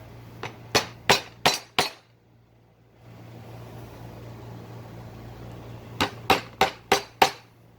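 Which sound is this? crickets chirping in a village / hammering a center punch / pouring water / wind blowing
hammering a center punch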